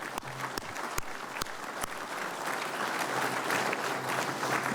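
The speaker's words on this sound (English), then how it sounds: "how about we do a round of applause for our family members?" Audience round of applause at a VFW testimony event, steady sustained clapping from a crowd with a few sharp nearby claps standing out.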